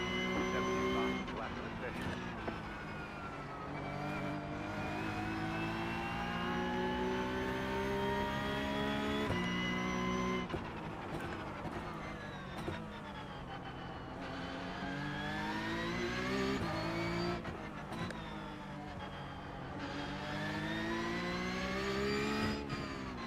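Porsche Cup race cars run in iRacing at Adelaide, engines revving high and rising through the gears. The revs dip and climb repeatedly as the cars follow one another, loud and close, with a voice talking over it.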